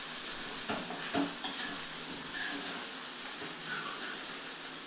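Aval upma made from poha with onion and tomato being stirred in a pan, with a steady soft sizzle and a few quick scraping strokes from the stirring, close and fairly faint.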